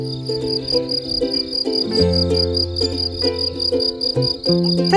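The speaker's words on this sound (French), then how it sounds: "On entend les grillons, tu entends?" Crickets chirp steadily outdoors on a summer evening, a high continuous trill running through the whole stretch alongside other tonal sounds, with no talking.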